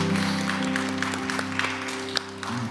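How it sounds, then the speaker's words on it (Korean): A church congregation at a Friday worship prayer meeting claps in praise, a moderate patter of many hands over a sustained organ or keyboard chord that holds underneath throughout. "우리 주님께 다시 한번 박수로 영광 돌리겠습니다."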